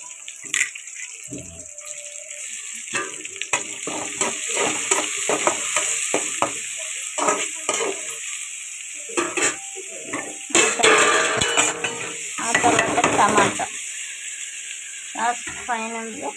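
Tomato stirred into uggani in a pan, with a steady background sizzle and repeated scraping and clinking of a spoon against the pan, close up, with a person talking at times.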